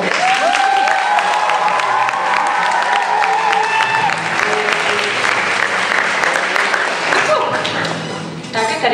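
Loud sustained applause and cheering from a school audience at a last-bell ceremony for graduating students, a dense wash of clapping with some voices and chuckles mixed in, fading slightly near the end.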